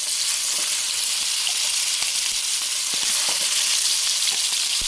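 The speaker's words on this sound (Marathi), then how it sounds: "तवा ठेवलाय, तेल पण टाकलंय. तर मस्त गरम झालं. तर ही गेली कलेजी तव्यावर पहिली, ही गेली दुसरी" Liver pieces frying in hot oil on a griddle outdoors in a forest, giving a steady, loud, continuous sizzle with faint crackles throughout.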